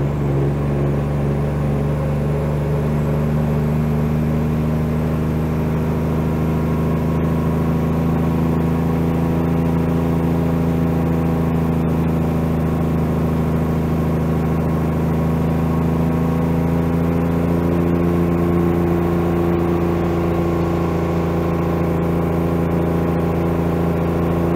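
An old Mack truck engine drones loud and steady with deep harmonic layers, pitch shifting slightly as it works through twin-stick gear changes, with no talking over it.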